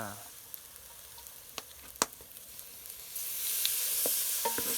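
Rice dry-fries in a pot without oil, and coconut milk is added. Scattered clicks and taps of stirring come first, then a steady sizzling hiss swells up and continues to the end.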